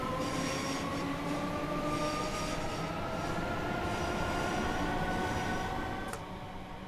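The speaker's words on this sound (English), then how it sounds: "It's not a really loud train." A Great Northern Class 313 electric train in Train Sim World 2021 runs steadily on the Moorgate to Welwyn Garden City line, with a continuous rumble, a rising motor whine and faint rail noise that ease off near the end.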